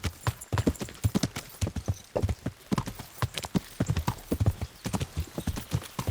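Horse hooves clip-clop at a steady walking rhythm in the Kingdom Come: Deliverance video game, with many evenly spaced, moderately quiet hoofbeats continuing throughout.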